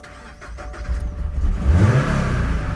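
A 2024 Toyota GR86 sports car engine cranks and fires up nearby, rising quickly into a throaty, steady idle over a couple of seconds, with no talking.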